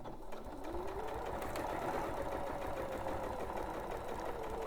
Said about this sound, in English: then just sew along that line again.